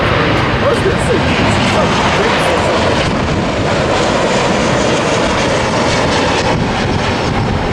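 Delta Boeing 737 airliner inbound to San Diego, a steady loud broadband jet roar that holds throughout, heard outdoors while people talk faintly nearby.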